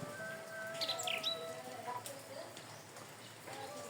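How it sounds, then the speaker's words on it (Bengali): Brief bird chirps and calls sound out against a steady outdoor background, with a few sharp twitters early on and faint calls afterward. "পাখিরাও ডাকতেছে।"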